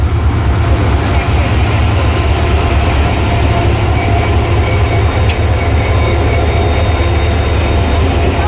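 The Sir Syed Express passes close by at Drigh Road station with a loud, continuous heavy rumble that does not let up, and one brief high squeal cuts through partway.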